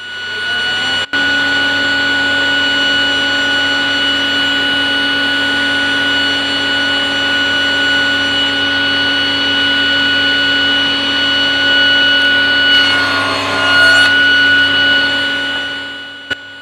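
Power saw running steadily as it cuts wood pieces held on a sled, a loud sustained whine with stable tones, a brief rise in grinding near the end as the blade passes through the workpiece.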